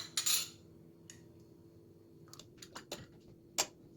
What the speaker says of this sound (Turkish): Şimdi mayamı ilave ediyorum içerisine ve karıştırıyorum.